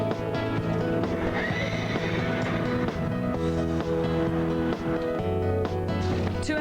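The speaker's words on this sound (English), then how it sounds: "She's a very good little horse to deal with in every respect." A racehorse, a small mare, whinnies loudly and her hooves clip-clop nearby, heard over a continuous musical background.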